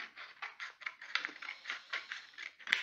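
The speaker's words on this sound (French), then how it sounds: "je découpe le rectangle avec ma paire de ciseaux" Scissors snip through paper while a rectangle is cut out for a handmade Easter card, a quick run of about a dozen crisp, close cuts in an even rhythm, with no talking.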